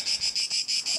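Crickets and cicadas chirp outdoors along the Camino de Santiago in a loud, steady, high-pitched trill that pulses in a fast, even rhythm, with no voices.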